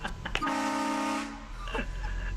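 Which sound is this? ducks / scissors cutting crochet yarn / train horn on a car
train horn on a car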